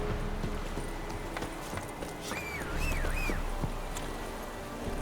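Roach, Geralt's horse in The Witcher 3, trots along with a steady run of hoof clip-clops over a busy background, while a high, wavering tone briefly rises in the middle.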